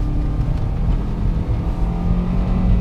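Lada Vesta with a robotic gearbox accelerating on a slippery road, a low steady engine drone heard from inside the car, moderately loud and continuous with slight surges.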